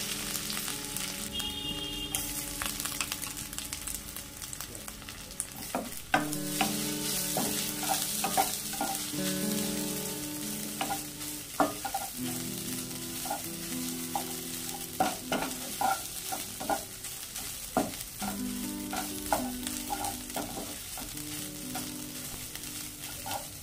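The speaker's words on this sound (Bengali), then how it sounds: "নারকেলটা 30 সেকেন্ড মতো ভেজে নিলাম।" Grated coconut frying in a pan with green chilies, a soft continuous sizzle broken by repeated scraping strokes of a spatula stirring, close and steady with no talk.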